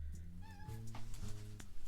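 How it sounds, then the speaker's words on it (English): A house cat meows indoors, a clear tonal cry with rising pitch up close, followed by a faint, lower drawn-out meow amid quiet room background. "Sorry, cat's meowing."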